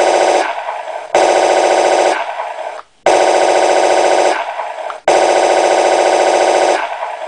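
Coaxial machine gun effect from an Elmod Pro sound unit in an RC tank, loud repeated bursts of rapid electronic firing, each about two seconds long with brief gaps between them.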